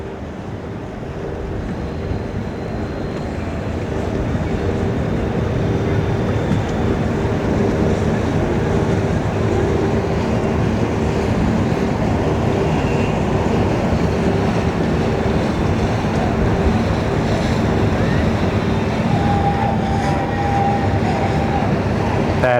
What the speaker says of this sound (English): That is a pretty Everglades. 273cc, twin Yamaha outboards, pair of 300s.